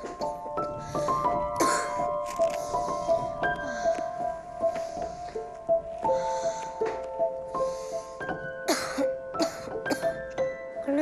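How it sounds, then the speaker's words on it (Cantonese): A sick person coughs and clears their throat repeatedly while suffering a severe cough and possible fever, in a Cantonese health drama. The rough bursts come close and loud over a steady tonal background. "咳得好犀利，好似仲有啲燒"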